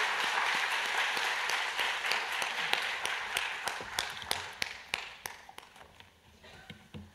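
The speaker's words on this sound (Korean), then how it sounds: "하나님께 영광의 박수 올려드립니다" A church conference audience claps in praise, starting as a dense wash of applause that thins into scattered, individual claps before fading out; no talking over it.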